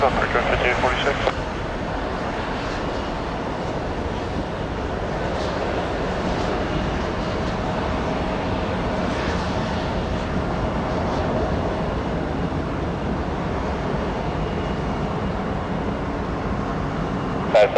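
A jet airliner rolls for takeoff on runway 21 right at Detroit Metro Airport, a steady broad roar heard from some distance that holds for the whole stretch, with radio voices speaking over it.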